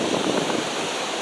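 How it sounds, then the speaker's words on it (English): Ocean waves at the beach in Seaside Heights roll in as a loud, continuous broadband wash, rough and windy near the microphone, with no talking. "Yes, the waves are crazy again."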